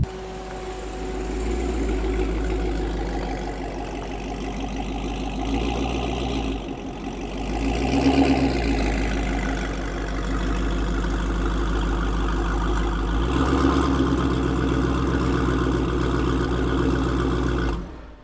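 A Dodge Hellcat's engine idles steadily and close after being restarted following misfires and limp mode, a deep continuous rumble with a slight rise in revs midway and a brief dip near the end.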